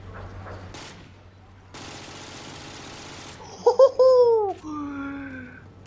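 A short, dense burst of rapid gunfire from the game Call of Duty Modern Warfare 2, then sharp electronic tones and effects, with a voice briefly in the background.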